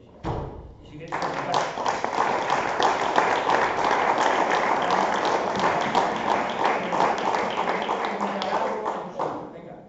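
A crowd at a public talk breaks into sustained applause that begins after a brief pause, stays dense and loud for about eight seconds, then fades near the end.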